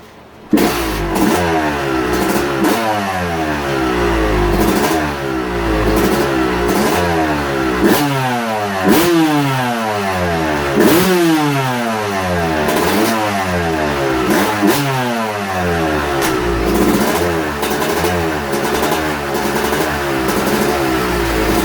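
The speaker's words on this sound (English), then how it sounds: "Let's start her up, rev her out, and make sure the power valve works properly" A Yamaha YZ250 two-stroke motorcycle engine fires up after a rebuild and revs repeatedly, climbing to a high buzzing wail and dropping back to idle again and again, loud and close throughout.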